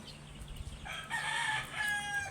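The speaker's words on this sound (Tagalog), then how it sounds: "Dami ding manok." A rooster crows in the middle distance, the call rising and then stretching out, over faint background clucking.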